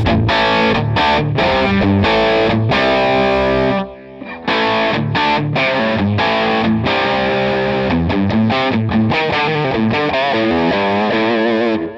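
Heavily distorted electric guitar through a Line 6 Helix amp modeler, Matchstick amp model, plays chugging rhythmic chords with a brief pause midway, loud and saturated.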